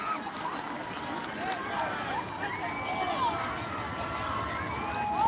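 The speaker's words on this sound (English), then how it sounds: "Crowd cheering." Crowd at a high school football game between Choctaw and St Augustine, with a broad roar of cheering and shouting that rises steadily toward the end. Whistles and a voice sound through the din from a distance.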